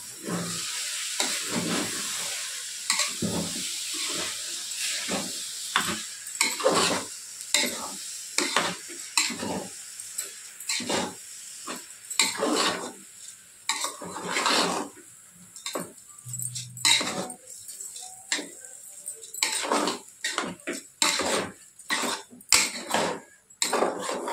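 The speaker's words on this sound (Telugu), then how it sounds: "మొత్తం రైస్ వేసేసుకున్న తర్వాత ఒకసారి కలిపేసుకుందాం" Rice and spinach stirred in a cooking pot for palak pulao, a spoon scraping and clinking against the metal in a steady, near rhythm of repeated strokes with a faint sizzle underneath and no talking.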